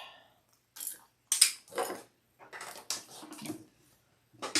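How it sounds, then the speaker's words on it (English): A sewing machine top stitches along each side of a sling bag in short, quiet bursts of mechanical whirring separated by pauses, heard close up. "Then top stitch along each side."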